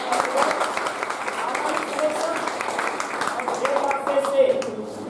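Audience applause at a ceremony honouring Dev Classes Bundi students for BSTC 2022 results, steady dense clapping from a crowd throughout, with a voice speaking over it.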